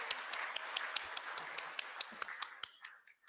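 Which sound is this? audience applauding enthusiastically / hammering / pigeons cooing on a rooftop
audience applauding enthusiastically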